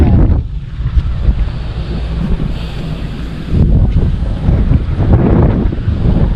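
Strong waves on Laguna lake churn and wash steadily, with heavy wind buffeting the microphone throughout and no voices.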